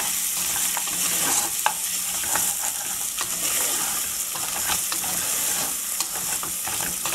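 Ginger, garlic, onions and paya (goat trotters) fry on a low flame, a constant close sizzle broken by regular scraping and clacking stirs.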